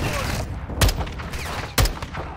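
Two sharp gunshots from a weapon in the video game Modern Warfare 2, about a second apart, loud over a busy game background of ambience and faint chatter.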